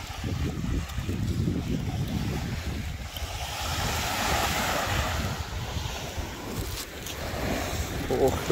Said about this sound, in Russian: Ох, какой классный пляж.